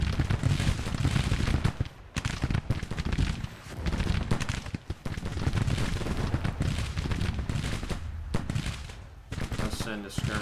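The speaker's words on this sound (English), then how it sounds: "Might as well shoot the artillery." Civil War artillery and musket fire in the strategy game Grand Tactician: The Civil War, heard as dense rolling volleys of booms and crackling shots with brief gaps, loud and continuous, with game battle ambience underneath.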